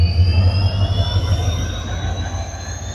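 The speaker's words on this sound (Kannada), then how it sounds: "ಡೀಸೆಲ್ ಲೋಕೋಮೋಟಿವ್ ಸೌಂಡ್ ಕೇಳೋದು ನಾನೇ ಎಷ್ಟೋ ದಿವಸ ಆಯಿತು" A diesel locomotive hauls a passenger train on the Rameshwaram to Chennai line over the Pamban sea bridge, giving a steady loud rumbling drone with a faint high whine layered on top, and no voices.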